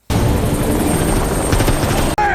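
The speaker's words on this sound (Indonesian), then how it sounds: "Duco muncul dengan menggunakan helikopternya" A helicopter flies in a film chase, its rotor a loud, steady, continuous drone with heavy low thumping, cutting out briefly near the end.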